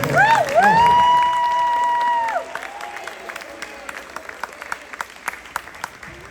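A crowd at a high school team's ring ceremony claps, first under a long, steady whistled tone, then as scattered, moderately loud clapping for several seconds.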